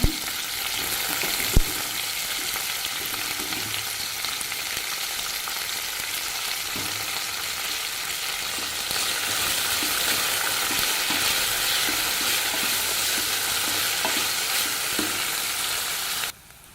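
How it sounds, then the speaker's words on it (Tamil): Pirandai (adamant creeper) sautéing in a pan with garlic, a steady broadband sizzle with occasional stirring scrapes, growing slightly louder partway through and stopping abruptly at the end. "பிரண்டையும் போட்டு நல்லா வதக்கிக்கலாங்க"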